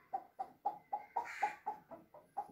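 A homemade string toy imitating a chicken's clucking: nine evenly spaced squawking clucks in a steady rhythm, close and fairly quiet, with no talk.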